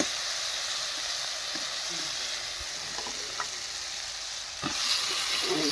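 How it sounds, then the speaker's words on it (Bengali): Potatoes and eggplant hitting a pan of fried spices, producing a steady, loud, close sizzle and hiss with a few clinks and stirring sounds, and a sharper burst near the end; no one speaks. "এখন আলু বেগুনটা দিয়ে দেবো।"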